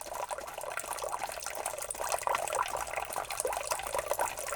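Water being collected in the video game BugOut, a soft continuous trickling and gurgling of liquid, faint and steady with no talk over it.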